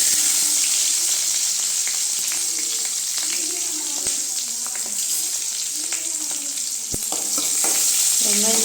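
Curry leaves and onion hit hot oil already holding mustard seeds and urad dal for okra poriyal, giving a loud steady sizzle with crackling pops and the scrape of a spoon stirring.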